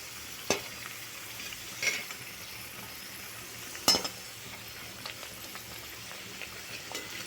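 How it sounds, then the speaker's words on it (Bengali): Stuffed potato puris fry in oil with a soft, fairly quiet sizzle, broken by a few sharp clicks and taps from utensils at irregular moments. "এগুলো লুচির মধ্যে যে পুরটা ভরেছি দিয়ে তারপর ভাজছি।"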